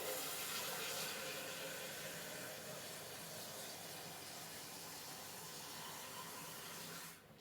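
Tap water runs steadily into a jug for soaking bamboo skewers in a home kitchen, a continuous close hiss and gurgle that cuts off at the very end, with no voices.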